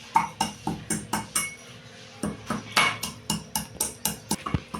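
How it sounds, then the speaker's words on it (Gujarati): Cinnamon, cloves and black pepper are pounded in a mortar, sharp rhythmic knocks in two bursts of repeated close strikes with a short pause between. "આ તજ, લવિંગ ને મરી છે એને સેજ ખાંડી નાખવાના છે"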